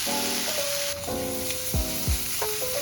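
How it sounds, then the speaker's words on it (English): Slices of homemade Spam flavored with fermented bean paste and garlic fry in a pan with a steady close sizzle. Tonal music runs over it, and a couple of low thumps are heard. "As soon as that Spam hit the pan, I already smell the fermented bean paste and garlic"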